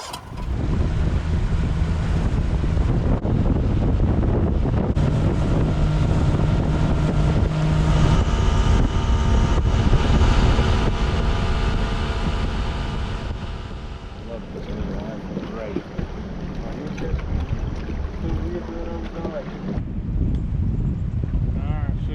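A fishing boat idles along the Ohio River with a constant low engine drone mixed with wind buffeting the microphone, steady throughout with a slight change midway.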